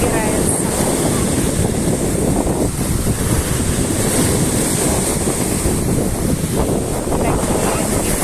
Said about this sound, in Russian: Высоко стою, прям до моих ног волны добираются.